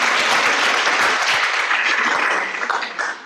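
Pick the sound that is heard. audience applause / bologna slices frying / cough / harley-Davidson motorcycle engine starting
audience applause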